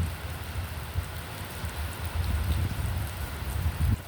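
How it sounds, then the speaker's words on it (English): Heavy rain pours down with a dense, rumbling patter that swells louder in the second half, no one speaking. "it's raining cats and dogs."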